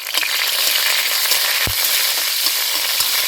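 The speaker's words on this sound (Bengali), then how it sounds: "চাটনির জন্য দিয়ে দিলাম সর্ষে ফোড়ন লঙ্কা ফোড়ন" Mustard seeds and chilies crackle in hot oil as a tempering for a picnic chutney, giving a loud, dense, continuous sizzle close up, with a single dull knock partway through.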